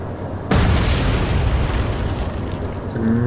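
A torpedo strikes a ship in Atlantic Fleet, and the blast erupts suddenly after half a second of quiet. A heavy, sustained roaring explosion follows, close and loud, with a tonal hum rising near the end.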